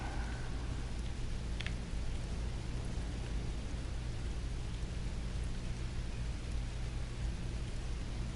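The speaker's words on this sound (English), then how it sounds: "Wow, rain on Risa?" In the Star Trek Online video game, rain falls on the resort planet Risa as a steady, even hiss throughout, with no voices over it.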